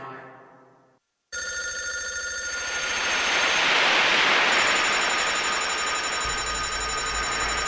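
A continuous, loud electronic telephone ring starts after a brief silence and holds steady, swelling in intensity with a harsh buzzing texture and no voices over it.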